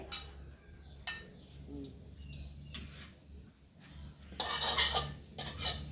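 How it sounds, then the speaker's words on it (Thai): Onion flowers are stir-fried with egg in lard in a pan, heard as sporadic metal clinks and scrapes of a utensil against cookware over a quiet low background hum, with soft bird sounds in the distance. "ผัดดอกหอมใส่ไข่"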